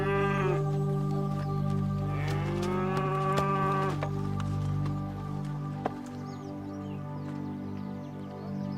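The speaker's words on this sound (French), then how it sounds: "Je t'ai ramené ta vache." A cow lets out two drawn-out moos, loud and close, the second longer and wavering before trailing off, with quieter farm ambience afterward.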